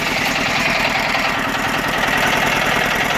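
A 10 HP Roper / Sears diesel garden tractor engine runs at a steady low idle, a close, continuous knocking chug with a dense, rough drone and no change in pace.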